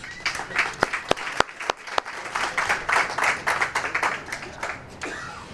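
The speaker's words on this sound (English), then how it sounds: "I just want a round of applause for that team, please." An audience at a city of Dunkirk community event gives a round of applause, with sharp individual claps at first building into a fuller, uneven burst of clapping that tails off.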